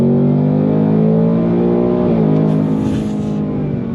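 A Ford Mustang Dark Horse V8 accelerates hard on throttle, its loud, steady engine roar rising in pitch as it pulls, with a brief dip midway before climbing again, close and continuous throughout.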